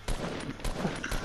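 Rapid gunfire in a Fortnite match on PS4, three sharp bursts in quick succession over a brief moment, close and fairly loud with no voices.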